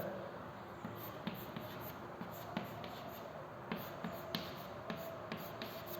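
Chalk tapping and scratching on a board during a chemistry lecture, with short regular strokes repeating steadily, faint and close against a quiet room hiss.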